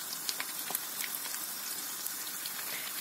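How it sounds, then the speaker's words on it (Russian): Syrniki (cottage cheese pancakes) frying in a pan over low heat, a steady faint sizzle with scattered small pops and crackles, heard alone. "Поджариваем сырники до золотистой корочки."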